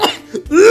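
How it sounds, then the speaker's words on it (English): A loud, harsh cough bursts out close up, followed by a brief rising vocal sound. "Try coughing really loud"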